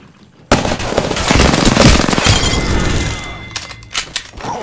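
Rapid automatic gunfire in Apex Legends, a dense sustained burst of loud, close shots lasting several seconds before trailing off into a few scattered cracks.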